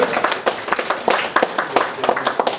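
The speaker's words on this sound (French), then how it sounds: "Je voulais bien l'applaudir, s'il vous plaît." Thin, scattered clapping from a small audience greeting a chocolatier at a chocolate tasting, a sparse patter of hands that never builds into full applause.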